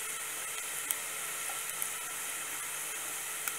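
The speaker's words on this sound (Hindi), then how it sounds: "अब हम इसमें जीरा डाल देंगे, चला देंगे इसे। अब जीरे को हल्का सा भूनने देंगे" Cumin seeds sizzle softly in hot oil in a pan after the garlic has been fried, a steady, faint, hissing crackle with occasional tiny pops and no talking.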